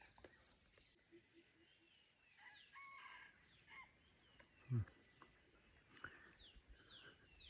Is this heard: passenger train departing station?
no